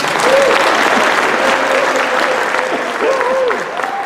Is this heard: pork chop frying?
no